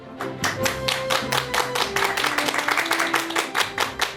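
Audience clapping for a guest psychology professor at a televised lecture, a steady run of sharp claps that stays loud throughout, with a faint tonal backing under it.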